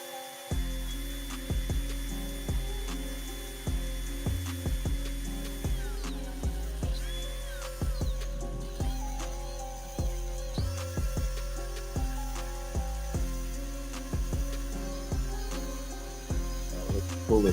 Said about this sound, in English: Little drill action there.